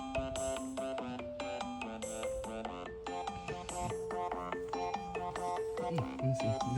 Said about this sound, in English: Is there a phone call coming in?